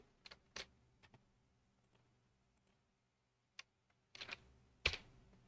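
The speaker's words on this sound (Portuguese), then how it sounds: "Cliquei em Enter." Scattered sharp keyboard clicks in a quiet room, a few isolated taps followed by a firm, louder keystroke like the Enter key.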